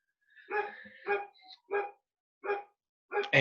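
A loose dog barks in several sharp, separate bursts with brief gaps between them, close by and fairly loud against a quiet background.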